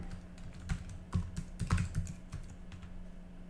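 Password being typed on a computer keyboard while pushing a git commit: a quick irregular run of close, soft key clicks with a few louder taps, over a faint low hum.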